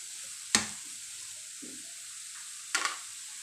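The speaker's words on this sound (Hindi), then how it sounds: "चम्मच चला देंगे। बंद गोभी डाल देंगे, धनिया डाल देंगे," A wooden or metal spoon stirring shredded cabbage and coriander in a frying pan over a faint steady sizzle, with two short, sharp scrapes against the pan and quiet gaps between them.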